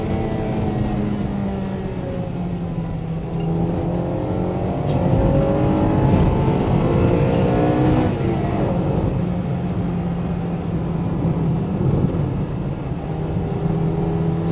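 Honda Integra Type R DC2 with its B18C6 engine revving hard as it climbs toward high RPM, a loud rising howl with audible gear changes, heard from inside the moving car.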